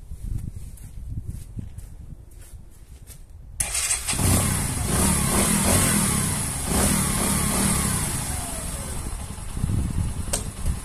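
A Bajaj Boxer 150 motorcycle engine with a cold carburetor starts up and runs steadily close by, rough and loud, with a few faint blips of throttle.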